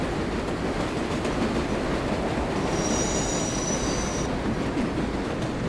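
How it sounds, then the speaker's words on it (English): An express subway train pulls away in the World of Subways 4 New York simulator, a steady loud rumble of wheels on track with a high, sustained wheel squeal rising in the middle and no talk over it. "That's an express train leaving again."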